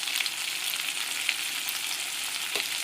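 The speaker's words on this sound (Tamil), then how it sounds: "இப்போ இதில் வந்து கருணக்கிழங்கு கட் பண்ணி நல்லா இது எண்ணெயிலே வதக்கிட்டுருக்கேன்" Pieces of elephant yam sauté in hot oil with a steady, dense sizzle that holds evenly throughout, and a single soft utensil knock comes near the end.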